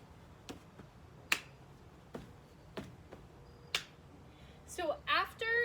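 Sharp single claps land at spaced intervals during a hip hop dance combo, fairly faint against the room, with someone starting to speak at the end.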